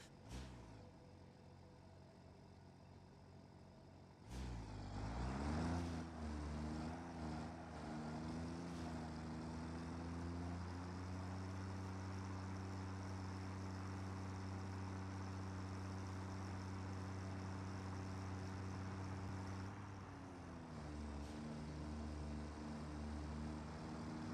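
A tractor vehicle in the factory-building game Satisfactory drives along, its engine droning steadily after a sudden start, with a rising rev and a long sustained hum that dips briefly near the end.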